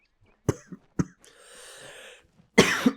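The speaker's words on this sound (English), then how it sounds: "Sorry, coughing a bit." A person coughs a few times in short, sharp bursts, with a soft breathy rasp between them and a harsher cough at the end, all close and with no other sound.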